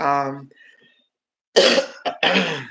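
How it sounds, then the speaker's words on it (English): A short bout of harsh coughs, two or three raspy bursts close to the listener, following a brief voiced sound. "I just want this cough to leave me alone because it hurts."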